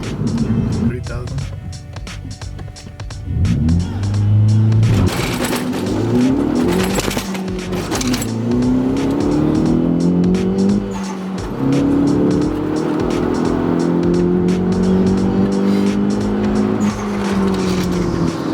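A Hyundai Veloster launches hard with loud engine revving and screeching tires, the wheels chattering as it hops, then pulls away while people talk over it.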